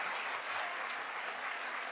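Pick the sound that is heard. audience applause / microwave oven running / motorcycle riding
audience applause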